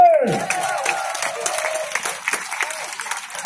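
Festival crowd applause at an outdoor event, lively clapping after a brief tone, moderately loud and sustained for a few seconds with some cheering.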